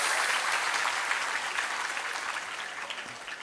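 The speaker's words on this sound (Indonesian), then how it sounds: "Tepuk tangan dulu untuk santri tambak beras." An audience of Tambak Beras santri and guests claps steadily for a few seconds in a dense, even burst of applause that fades slightly toward the end.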